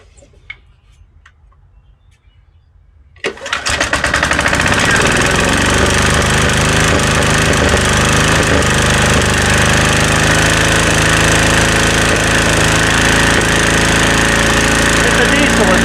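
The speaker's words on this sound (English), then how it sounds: "It's a diesel, it's warming up." After a few quiet seconds of faint ticking, the M715's diesel engine cranks and catches, then settles into a loud, steady clattering idle as it warms up.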